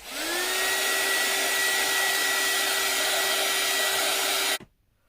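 A hair dryer blows over a freshly painted piece, a loud steady whoosh with a rising motor whine as it spins up, holding constant for about four seconds before cutting off abruptly into silence.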